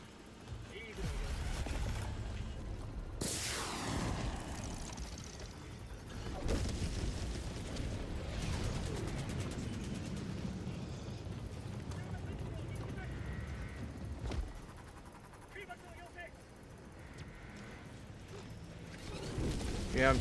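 Eagle strafing runs in a video game, with several heavy explosive booms and rumbling blasts bursting out over a constant bed of battle noise and wind-like rushing.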